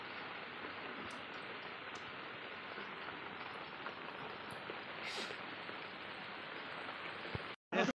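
Soft, steady rainfall hisses evenly throughout, ending with a brief thump.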